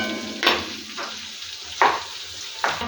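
Sardines frying in oil in a pan, a steady crackling sizzle with a few sharper stirring scrapes and clatters standing out at intervals, close and moderately loud, with no voices.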